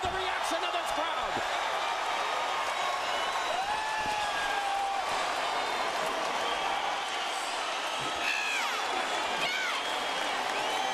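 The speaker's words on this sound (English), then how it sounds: "Listen to the reaction of this crowd" An arena crowd at a mixed martial arts bout roars and cheers after a knockdown in the third round, a dense, sustained swell of noise heard from a distance with faint shouts rising above it.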